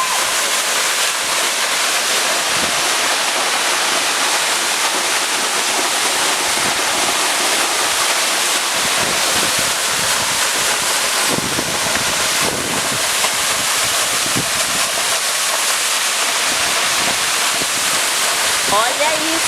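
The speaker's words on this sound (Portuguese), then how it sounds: "já vimos outras cachoeiras aqui, mas essa aqui é sensacional" Waterfall in Tamarana, Paraná, a steady, loud broadband roar of falling water continuing throughout without pause.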